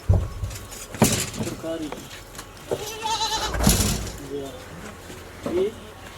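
Pregnant goats at a farm sale bleat in short wavering bursts, near and fairly loud, mixed with people talking and some handling noise.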